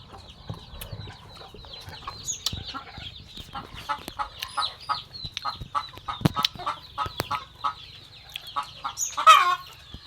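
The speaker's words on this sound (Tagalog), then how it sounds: "Saba jud kay ang manok guys." Chickens cluck noisily and repeatedly near a coconut grove, a busy flock with steady overlapping clucks and an occasional louder call, no talking.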